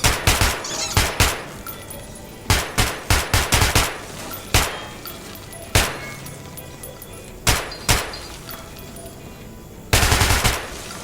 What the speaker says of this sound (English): Feel free to try out your weapon on my firing range.